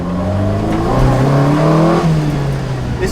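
A Lotus Exige S1 sports car engine revs up and holds a rising, raspy tone close by, loud and continuous over the few seconds with faint speech underneath.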